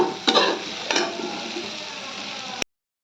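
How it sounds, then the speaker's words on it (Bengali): Potatoes frying with turmeric in a pan as a spoon stirs them, two sharp clatters of utensil on metal over a steady sizzle that stops abruptly near the end. "হলুদটা দিয়ে একটু নাড়াচাড়া করব।"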